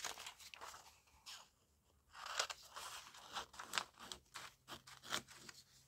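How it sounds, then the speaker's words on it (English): Scissors cutting through glossy magazine paper for a craft project, a series of crisp snips and crunchy rustles at an irregular pace, close and fairly quiet, without speech. "So just run my scissors up,"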